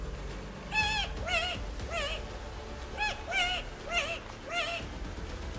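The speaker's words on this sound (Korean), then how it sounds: "밤이 되면 숲속에서 사람 같은 기괴한 울음소리를 냈는데" Repeated hooting, cooing bird calls in pairs of short rising notes, fairly close and clear over faint background, offered as the cry of the extinct New Zealand laughing owl at night.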